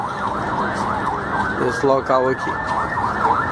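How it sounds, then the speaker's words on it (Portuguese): Emergency vehicle sirens wail along a busy city street, their rising and falling tones running steadily through the whole stretch beneath crowd noise and a person talking. "E mais uma vez as sirenes, né?"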